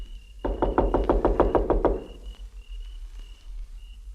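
A door in an old-time radio drama takes a quick run of about eight sharp, close knocks in a steady rhythm, followed by quiet room tone.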